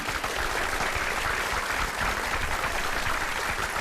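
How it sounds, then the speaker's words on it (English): A steady, dense round of applause from a crowd fills the whole stretch at an even, loud level, with no pauses and no talking. "here's your round of applause, mate"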